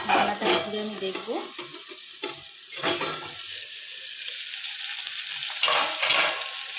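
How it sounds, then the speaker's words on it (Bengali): Eggplant frying in a pan for a mustard-paste curry, a steady close sizzle with clinks and stirring scrapes of a spatula against the pan, no voices. "ভাজতে দিয়েছিলাম বেগুনটা"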